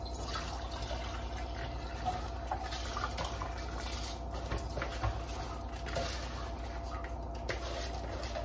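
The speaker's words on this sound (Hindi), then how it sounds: "अपने राइस और दाल जो मैंने सोख किए थे उनको धो वॉश कर लेते हैं" Soaked rice and lentils are rinsed in water in a home kitchen. Steady sloshing, pattering and trickling continue without a break under a constant low hum.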